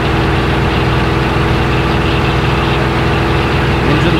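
A vehicle engine in the DayZ video game runs loud and steady at high load, a constant droning rumble with no voices over it.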